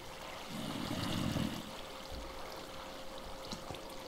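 Water pours down steadily in a video game, a continuous rushing wash at low volume with a brief louder swell near the start.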